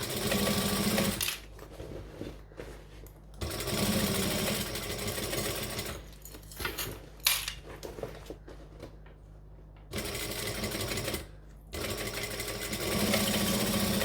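A sewing machine stitches a bag seam and back stitches, running in several loud close bursts separated by brief pauses and quieter handling noise, with no talking.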